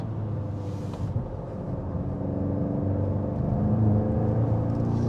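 A 2024 VW GTI 380 Performance under full throttle gives a steady, close engine drone that builds gradually in loudness, with no talking.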